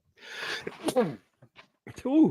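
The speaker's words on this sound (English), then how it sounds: "I got a sneeze coming on" One person sneezes close up, a short breathy burst, followed by a quick exclamation and a second small sneeze-like outburst.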